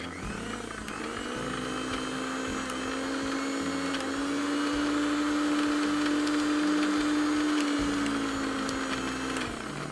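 A kitchen mixer grinder whirs steadily for several seconds as it grinds a beetroot chutney with chilli. The motor drone is loud and close, with a slight rise and fall in pitch and no talking.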